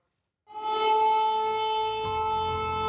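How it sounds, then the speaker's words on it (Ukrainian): Air raid siren wailing in Murmansk on the Kola Peninsula, starting abruptly after a brief silence and holding a loud, steady tone with rich harmonics for the rest of the clip, heard alone. "Наляканий Мурманськ звикає до сирен."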